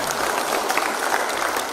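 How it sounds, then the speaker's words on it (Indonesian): Dense, steady applause from an audience at a regional coordination meeting fills the short moment, even and continuous without voices. "Tepuk tangan untuk"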